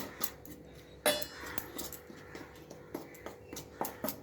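A spoon works through raw banana mixed with salt and turmeric in a bowl, giving soft scrapes and light clinks of metal against the dish in an uneven rhythm, quiet and close, with no talking.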